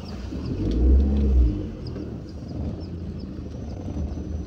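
A car engine revs and rumbles as it pulls away at low speed during a beginner's driving lesson, a brief louder surge followed by a steady low idle.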